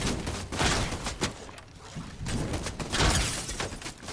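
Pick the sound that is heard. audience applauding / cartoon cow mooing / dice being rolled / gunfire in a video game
gunfire in a video game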